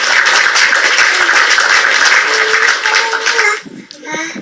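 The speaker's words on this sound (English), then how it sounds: "let me clap for you." A few people clap their hands in steady bursts, fairly close, with talk going on over it, then the clapping stops and a voice carries on alone.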